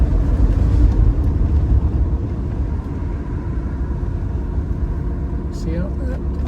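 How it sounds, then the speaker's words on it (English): A 1972 Triumph Stag Mk1 with a 3.0 manual overdrive gearbox drives along, its engine giving a steady low rumble heard from inside the car alongside road noise, with rattly wheel trims and a voice talking over it. "Makes an absolutely gorgeous sound, as Stags always do."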